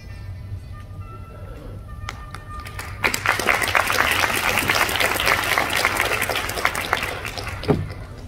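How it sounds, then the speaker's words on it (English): An audience applauds at a debutante cotillion hosted by a fraternity in Memphis, with scattered early claps swelling into dense, sustained applause from a large crowd in a hall, holding steady for several seconds. "would like us to give a round of applause to all the parents and guardians supporting these young people tonight"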